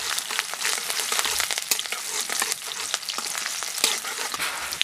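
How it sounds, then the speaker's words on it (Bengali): Chopped garlic and green chilli fry in a pan with a dense, crackling sizzle up close, while a spatula stirs through them in a quick series of scrapes and taps. "রসুন কুচি আর কাঁচা লঙ্কা কুচিটাকে একটু নাড়াচাড়া করে ভেজে নিচ্ছি।"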